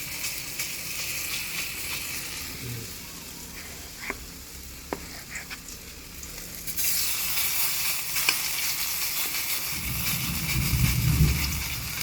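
Banana heart (puso ng saging) burger patties fry in hot oil, a steady close sizzle that grows louder and denser in the second half, with a few faint clinks along the way.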